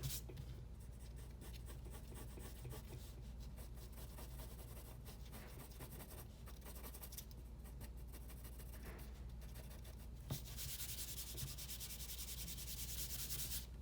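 An 8B pencil shades darker lines on paper for a hand drawing, giving a steady, close, scratchy rubbing that runs continuously with no voices.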